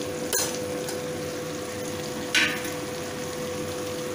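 Eggplant and potatoes frying dry in a pan, a steady low sizzle with a couple of brief scraping stirs, close and unbroken.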